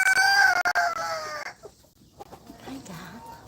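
A rooster's harmonic crowing or clucking rings out close by for over a second, then gives way to quieter scattered farmyard noises.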